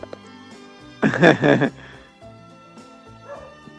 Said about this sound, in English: I hear somebody's barking in the background there